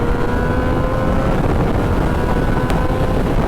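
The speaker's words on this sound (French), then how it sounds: "Mon cerveau de motard, il a pas compris. Il a mis full gaz." A motorcycle on a race track straight at full throttle: a loud, steady engine roar with heavy wind buffeting, sustained and unbroken throughout.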